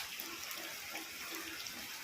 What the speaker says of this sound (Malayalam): ആ തോട്ടിൽ നിന്നും കൂടെ വെള്ളം ഒഴുകി വരുന്നുണ്ട്.